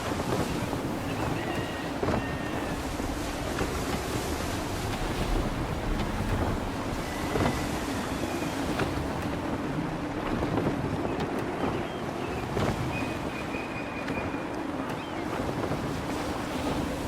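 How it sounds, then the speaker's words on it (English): Gusty wind blowing across open water while sailing a ship at sea in Assassin's Creed III, a steady rushing roar with waves washing against the hull and faint creaks, continuous and loud throughout. "Gusty winds can be difficult to manage."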